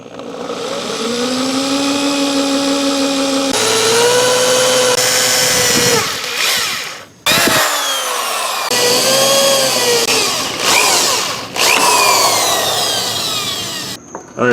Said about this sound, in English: Let's drill this bitch.